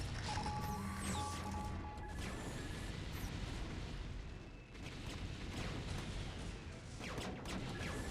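StarCraft battlecruisers attack and destroy tanks in a dense, continuous wash of game battle noise, with overlapping blasts, impacts and explosions at a fairly low, steady level.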